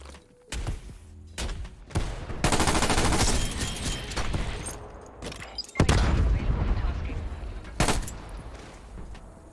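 Heavy automatic gunfire from a newly added gun in a video game, loud repeated bursts and booming shots in close succession with brief gaps, some sharp single blasts standing out.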